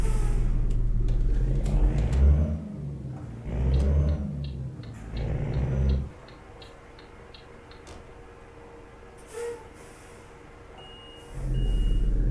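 Mod truck engine on a Constellation 24.280 in Euro Truck Simulator, a deep rumbling drone that swells in repeated revs over the first six seconds, drops to a low idle, then climbs again near the end, with no talking.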